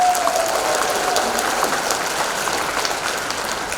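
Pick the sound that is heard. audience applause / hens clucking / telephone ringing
audience applause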